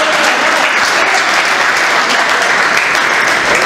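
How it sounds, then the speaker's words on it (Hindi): Loud, dense applause from an audience at a Haryanvi comedy poetry gathering, a thick continuous wash of clapping held at steady volume from start to end. "मेरे सम्मान में एक बार तालियां बजा दीजिए"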